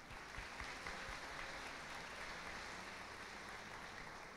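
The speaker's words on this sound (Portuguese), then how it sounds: "Uma grande salva de palmas a todos nós." A church congregation applauds at the closing of a parish feast, a faint, distant wash of steady clapping with little variation, heard alone.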